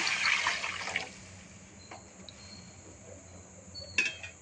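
Water pours into a pan while egg Maggi is being cooked, a brief splashing gush for about a second, followed by quiet with a few faint clinks.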